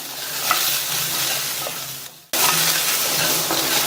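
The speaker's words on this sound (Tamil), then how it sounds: "இதுல நம்ம வறுத்து பவுடர் பண்ண அந்த சுண்டல் பொடியை சேர்த்துட்டு மறுபடியும் நல்லா ஒரு தடவை கலந்து விட்டுருங்க" Roasted sundal powder is stirred into a mixture in a pan, giving a loud, continuous sizzling hiss with soft scraping; a brief dip into near silence comes partway through before the sizzle returns.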